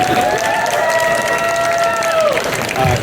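Audience applause at a Star Wars: The Clone Wars convention panel, dense clapping from a large crowd that carries steadily for about three seconds, with a faint sustained tone layered over it.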